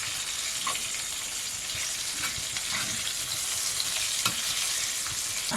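Fish fries in oil in a pan on a wood-fired village stove, a continuous close sizzle with occasional sharper pops and crackles.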